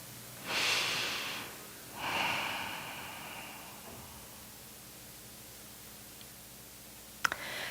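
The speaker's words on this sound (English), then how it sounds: "Let's take a conscious, connected breath now." Two slow, deep breaths taken in a quiet service setting, each a soft, airy rush of inhale and exhale, followed by near silence and a faint click.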